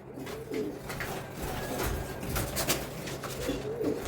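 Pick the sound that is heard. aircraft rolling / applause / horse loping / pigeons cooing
pigeons cooing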